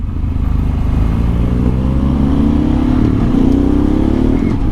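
A BMW R1250 GSA motorcycle rides along a mountain road, its engine droning loud and close with a rising pitch as it accelerates, under steady wind rush and no talking.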